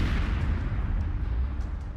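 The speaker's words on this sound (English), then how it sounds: "Part of the ammunition was used up, so the explosion was less powerful." A disabled tank's remaining onboard ammunition cooks off after a Javelin missile hit in Ukraine. A heavy, continuous low rumbling roar of burning and explosion fills the scene, distant and muffled, with faint crackling on top and no voices.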